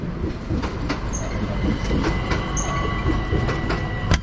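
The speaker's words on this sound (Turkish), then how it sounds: "Yandan tren gidiyor." A train rolls past nearby, loud and continuous, with rhythmic clicking of wheels and occasional high squeals over the steady rumble.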